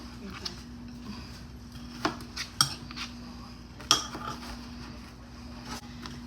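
A spoon stirs onions and tomatoes in a cooking pot, giving a few scattered clinks and scrapes of metal against the pot over a low steady hum, with a voice talking in the background.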